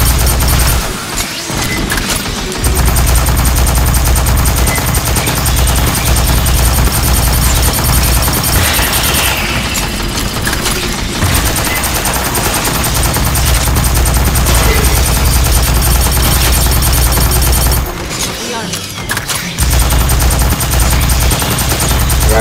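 Dense, loud video game gunfire from Aliens: Fireteam Elite horde mode, sustained automatic bursts and booming impacts that run almost without a break, with brief dips in intensity.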